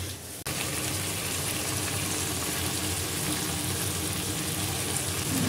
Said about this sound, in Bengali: এখন অল্প অল্প করে পানি দিয়ে বেগুনটাকে একটু কষিয়ে নিব।